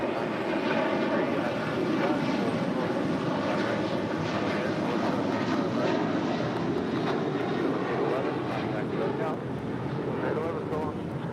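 A jet airliner rumbling on a runway at Los Angeles airport, a loud, steady broadband roar with a whining engine tone that holds throughout without pause.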